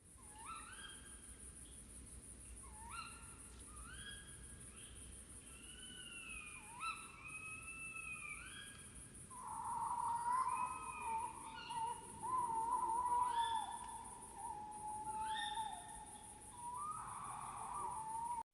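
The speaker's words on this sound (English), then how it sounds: "Then she waited as an owl hooted 3 times." Repeated hoot-like calls sound over a steady high insect drone, with a sustained whistle-like tone joining midway; faint, distant night ambience, no one talking.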